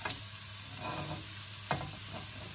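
Vegetables sizzle steadily in a hot pan on a home stove while a spoon stirs them, giving a few distinct scraping pushes over the continuous frying hiss, close and moderately loud, no voices.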